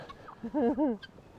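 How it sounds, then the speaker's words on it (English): A farmyard bird gives a brief tonal call in winter among turkeys and guinea fowl, a short warbling burst in a quiet outdoor setting with faint background noise. "Look at all the guineas. They're not as brave as these turkeys."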